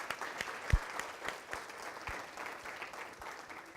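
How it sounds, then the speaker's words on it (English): Faint, sparse applause at a company all-hands meeting, a few scattered claps over a thin crowd murmur, quiet and distant as if heard through a call line. "Let's give them a round of applause before they hang up here."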